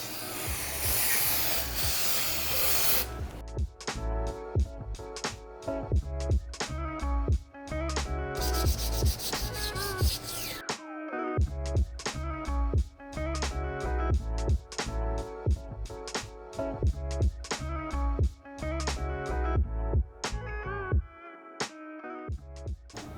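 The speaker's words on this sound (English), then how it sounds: "I've sanded these as well" Engine parts from a Renault 5 GT Turbo being sanded by hand, a steady rasping rub in quick repeated strokes, close and fairly loud, with brief pauses between runs.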